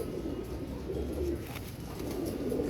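A Royal Teddy pigeon cooing softly in a loft, low rolling coos repeating through the stretch, fairly faint and close with no voices.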